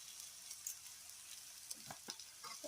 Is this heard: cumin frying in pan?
yes